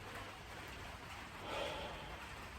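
Rain falling outside, a soft steady hiss of drops that swells slightly midway, heard faint and continuous with no talking.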